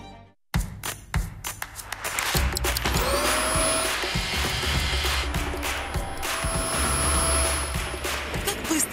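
Steady loud whirring drone of a Silver Crest vacuum cleaner in a TV commercial, starting abruptly and running continuously with clicks and a high tonal whine on top.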